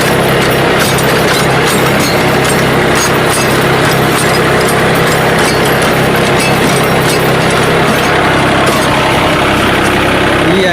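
A John Deere mini tractor runs a rotavator through grass at 540 economy PTO in third gear, a loud steady diesel drone with constant mechanical vibration close by.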